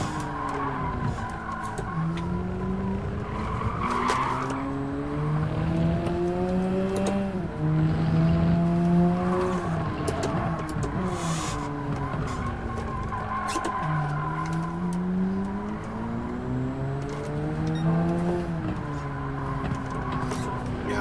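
Race car engine in Gran Turismo 7 holding steady revving tones that rise and fall through repeated upshifts and downshifts, with tire squeal around the corners, loud and continuous for the whole stretch.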